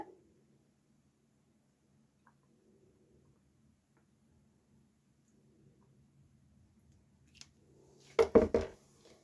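A spoon digs into a container of enamel powder with a short, close scraping clatter near the end, following a long stretch of near silence and faint room hum.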